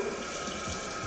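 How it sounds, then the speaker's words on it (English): Tap water runs while hands are washed clean of molasses cookie dough, a close, steady hiss of flowing water over a brief moment. "let me wash my hands to get this goo"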